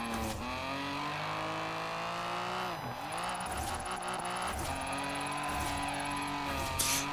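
Car engine in Forza Horizon 4 drifting on and off the handbrake, a steady loud engine drone with pitch dips and rises as the throttle and handbrake are worked, plus faint tire noise, no voices.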